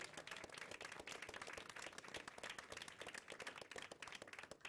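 Sustained applause from a crowd honoring the team behind the game Deathgarden, dense continuous clapping that holds steady throughout without a break.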